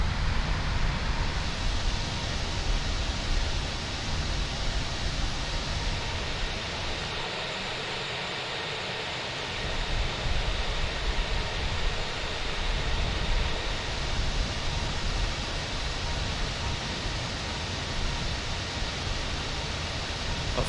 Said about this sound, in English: we are cleared for takeoff. Right, here we go